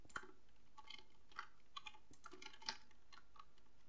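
Quiet computer keyboard key presses while working in Minecraft: a few scattered soft clicks and taps, faint and close, with no talking.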